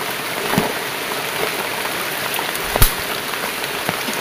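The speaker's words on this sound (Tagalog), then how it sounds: "tatlong araw na po yung ulan dito sa amin." Steady rain falling after three days of downpour, a continuous dense patter on surfaces with a few louder drops standing out, heard alone.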